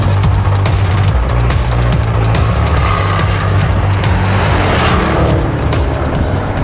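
A 2014 Range Rover Sport with a supercharged V8 accelerates hard, its engine a loud, continuous roar with a sustained drone and rising revs throughout, heard up close with no talking.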